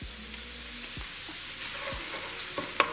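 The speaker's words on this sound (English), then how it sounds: "render out some of that fat and get all delicious looking" Greasy chorizo sizzles and crackles steadily in a pan as its fat renders out for tacos, with a few soft scrapes and taps of stirring over the continuous frying hiss.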